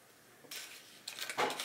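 A baby bangs food utensils like drumsticks, giving a few soft clattering hits that build into a brief louder burst of kitchenware knocks near the end.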